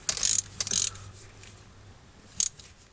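A ratchet wrench tightens a spark plug on a 2004 Toyota Tundra, with short bursts of clicking near the start and one more brief burst a little later.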